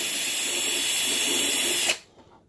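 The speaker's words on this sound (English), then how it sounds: "we'll drill this hole out a little bit" A power drill bores a hole through foam for dowel rods on an RMRC SkyHunter model plane, a loud steady whine that cuts off abruptly near the end, leaving near silence.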